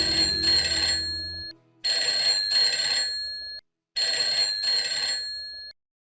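Household telephone ringing in bursts: an electronic double-trill ring repeated twice, each burst followed by a brief silence, clear and alone after a faint low sound at the start.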